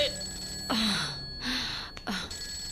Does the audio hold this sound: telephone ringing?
yes